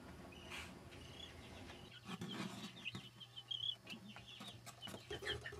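Chicken clucking at a waterfowl center, with a few short, scattered clucks and calls over low outdoor background noise, fairly quiet and intermittent.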